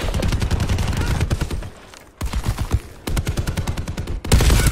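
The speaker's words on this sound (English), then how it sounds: "We need to go where the gunfire is, don't we?" Rapid automatic gunfire from a Hades light machine gun in Call of Duty Black Ops 4, loud, dense bursts broken by two short pauses and a final heavy burst.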